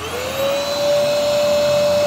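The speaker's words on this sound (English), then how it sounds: "Dan ini vacuum cleaner lah." A vacuum cleaner runs on a 231-volt pure sine wave inverter with a loud, steady, close-up roar and a constant high motor whine that holds level throughout.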